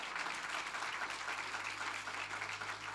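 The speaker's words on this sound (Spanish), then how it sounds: "Le damos un fuerte aplauso al Señor." A church congregation claps together in a steady, dense wash of applause. It is uniform and sustained for the whole moment, with no voices standing out.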